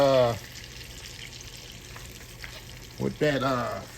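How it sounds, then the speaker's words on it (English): Heavy cream hits a hot pan of seasoning for shrimp and tortellini Alfredo, a steady low sizzle and bubbling between a man's speech at the start and end. "We're gonna throw that heavy cream right in there with that"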